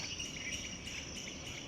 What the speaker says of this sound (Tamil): நிறைய பேர் குருவின்னு நினப்போம் ஆக்சுவலி இது அணில்